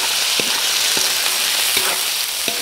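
White beans hit a hot frying pan for escabeche, giving a steady, loud sizzle with a few soft stirring scrapes and knocks spaced through it.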